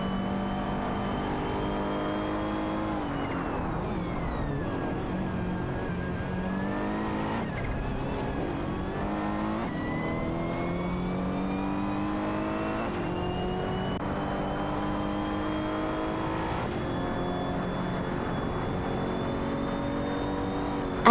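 Race cars in a video game race battling in a tight pack, engines droning and revving continuously with rising and falling pitch as they accelerate and shift, loud and steady throughout with no talk.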